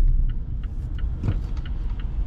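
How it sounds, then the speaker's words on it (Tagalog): Traffic moves along a wet street on a winter morning, the tires hissing steadily with a low engine rumble as cars pass close by, with no talking. "Basa ang kalye at marami ng sasakyan"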